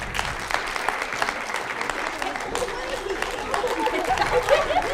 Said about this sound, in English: let's give a round of applause for all these competitors